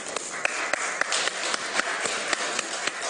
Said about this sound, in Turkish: herkes alkışlıyor